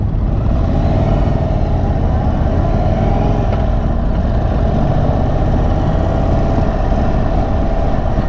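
An Indian Chief motorcycle engine rumbles loud and steady while riding on the road, with a deep, continuous exhaust drone and constant wind noise throughout, and no voices.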